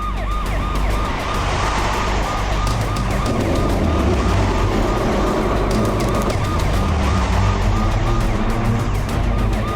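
A car speeds off in pursuit of a water tanker, its engine roaring loudly and continuously beneath a blaring siren that wails throughout.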